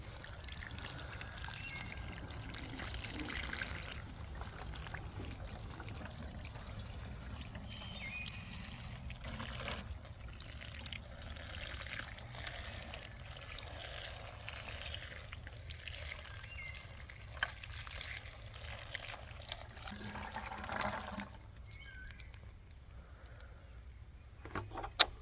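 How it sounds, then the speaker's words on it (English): A watering can pours onto freshly planted strawberries and dwarf tomatoes in a GreenStalk planter, giving a faint, continuous trickle and patter for a long stretch, with a few small knocks and a brief pause near the end. "I'm just gonna water these plants."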